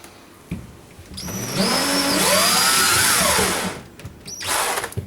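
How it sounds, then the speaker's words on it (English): A power drill whirs up, its pitch rising and falling as a slightly larger bit widens a hole in the plastic of a fridge freezer for a few seconds, then a brief second burst. "Now I'm going to widen that hole up slightly with a slightly larger drill bit"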